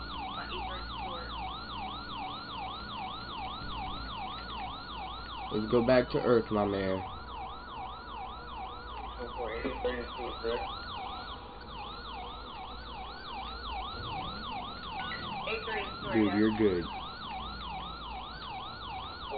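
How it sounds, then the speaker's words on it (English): A police siren in GTA 5 (LSPDFR mod) wails continuously in rapid up-and-down sweeps, with a few brief voices and thumps breaking in over it. "kill the lights and sirens"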